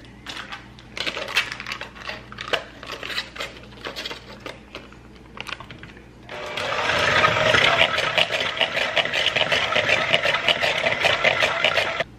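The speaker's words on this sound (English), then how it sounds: "I'm just going to beat it until it's nice and soft. I'm using a hand mixer." Cream cheese in a mixing bowl: light scraping and tapping at first, then a hand mixer starts up and whirs steadily and loudly to the end.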